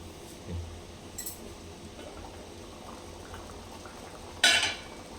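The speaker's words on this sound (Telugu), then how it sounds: "ఇప్పుడు మూత పెట్టుకొని బాగా ఉడికించుకుందామండి" Taro root curry simmers in a covered pot with a faint, steady bubbling hiss, broken by a couple of soft knocks and one sharp metallic clink of a lid or utensil.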